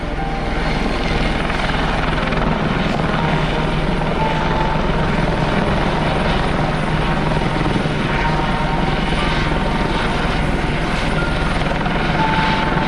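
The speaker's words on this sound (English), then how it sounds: "I'm going out in my helicopter to cut trees down" A helicopter cutting trees with a suspended saw drones continuously overhead in Värmland, Sweden, a steady, dense rotor and engine roar with no pauses and no voices.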